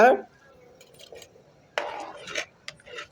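A spoon scrapes and clinks against a metal pot as food is stirred, in a few uneven bursts with quiet pauses between.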